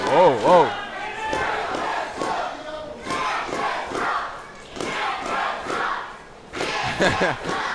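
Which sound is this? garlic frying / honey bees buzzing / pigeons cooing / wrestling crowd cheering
wrestling crowd cheering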